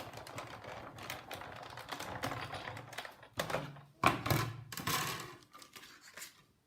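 A Big Shot die-cutting machine cranks an embossing folder holding cardstock between cutting pads, giving a run of close, uneven clicks and ratcheting knocks with a few sharper thumps near the end.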